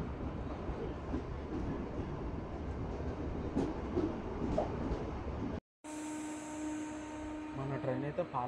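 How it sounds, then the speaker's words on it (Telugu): MEMU Express train 17270 pulls out of Palakollu station with a steady, close rumble and rattle. After a brief cut, a humming motor whine rises with clicking wheel noise. "మన ట్రైన్ అయితే పాలకొల్లు స్టేషన్ నుంచి అయితే స్టార్ట్ అయిపోయింది."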